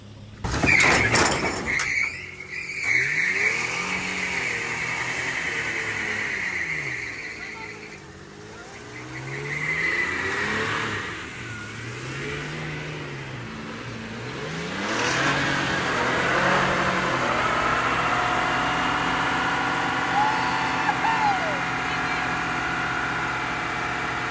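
A truck engine revs and drops as the vehicle is driven up onto a trailer, rising and falling in pitch through several surges over a low rumble, with people talking over parts of it.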